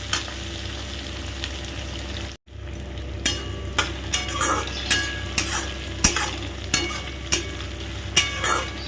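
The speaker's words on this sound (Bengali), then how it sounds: "ভালো করে নাড়তে থাকো, সুন্দর করে ভেজে নেবে।" Onion and tomato frying in a pan while being stirred, a steady sizzle with repeated scraping strokes of a utensil at a regular rhythm, close and fairly loud, broken by a brief silent gap.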